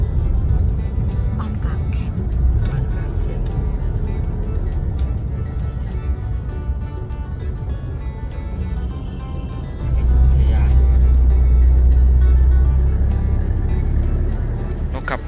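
A car climbing the road up to a campsite at Ban Krang Camp, heard from inside as a steady engine and road rumble that swells louder and deeper in the last few seconds, with a voice speaking over it.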